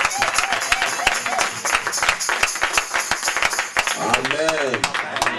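Church congregation clapping in steady rhythmic acclamation, a dense run of sharp claps carrying on under loud singing and talk throughout.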